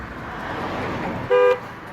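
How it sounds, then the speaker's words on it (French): A single short horn honk from a Renault 19 Alizé 1.8 110 hp blares close by, cutting through a low engine hum. "Ah non, c'est le klaxon"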